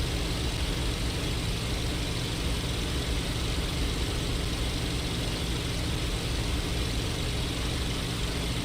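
A Spitfire Mk XIV's piston aero engine in the IL-2 Normandy flight sim roars at full power, a constant loud broadband drone with a deep low rumble that never lets up.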